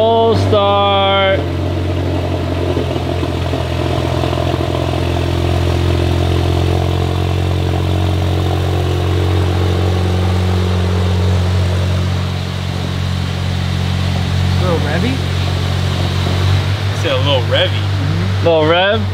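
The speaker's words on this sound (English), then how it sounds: "we're getting a cold start on the Jetta with the tattoo" A Volkswagen Jetta engine starts cold and then settles into a steady, rumbling idle close by. Several people talk over the engine throughout.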